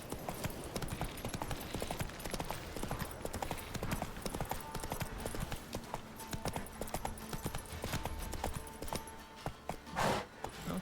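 Roach, the horse in The Witcher 3, clip-clops along at a steady rhythmic gait, hooves thudding close and continuous over game music and ambience, with a brief louder burst near the end.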